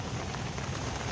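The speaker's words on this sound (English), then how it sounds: "It is still raining outside, so I bet that's like 16 hour, 17 hour rain non-stop." Steady rain falls on a tent during a wild camp at Ovenden Moor, a constant, even patter throughout the short stretch with no one speaking.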